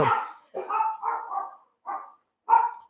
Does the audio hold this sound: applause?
no